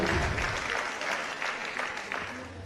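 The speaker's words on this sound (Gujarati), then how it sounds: "તમારા પોતાના માટે તાળીઓ પાડો એકવાર." An audience at a motivational talk claps for itself, a dense burst of applause that starts full and tapers slightly over a few seconds, with scattered voices mixed in.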